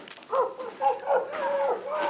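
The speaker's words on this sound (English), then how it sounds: "The dog, he's crying, Barrie." A dog whimpers and cries in a series of high, wavering whines, fairly close and loud, in an old radio drama.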